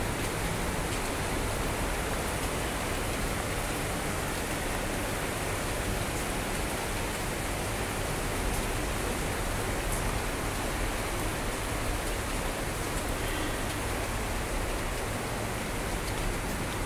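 Summer rain falls steadily over a garden of plants and banana trees in Vizag, a continuous broadband wash of close, loud patter that barely varies from start to finish.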